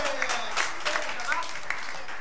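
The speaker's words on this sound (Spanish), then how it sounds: "Un aplauso para Julieta, otra vez por más." Theater audience applause fills the clip at an amateur stage play, a steady wash of many hands clapping, with some whistles poking through.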